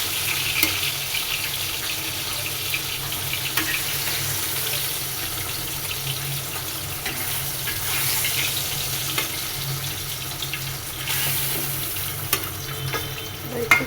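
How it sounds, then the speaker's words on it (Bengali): Fish sizzling as it fries in a pan, a loud continuous crackle with occasional stirring scrapes, close and steady throughout with no talking. "মাছটা প্রায় ভাজা হয়ে গেছে।"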